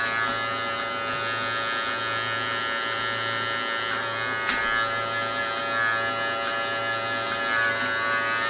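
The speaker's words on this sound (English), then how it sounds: "We letting the clipper do all the work." Electric hair clipper buzzes steadily and close while cutting hair during a mid taper on the back of the head, its hum continuous with slight shifts in tone as the blade lever is adjusted.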